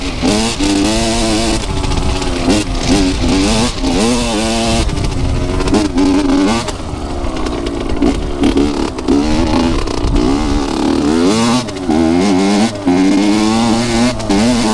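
Banshee and YFZ450 ATV engines revving loudly on a hill climb, continuous rising and falling engine whine and throttle bursts up close, with rough clattering throughout and no talk.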